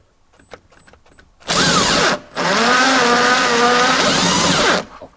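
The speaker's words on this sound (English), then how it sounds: "electric drill driver, we can see that how I open this first bolt" An electric drill driver unscrewing a bolt on a Ford Mondeo tail light cover, a few faint clicks, then two loud sustained whirring runs separated by a brief pause, close to the listener.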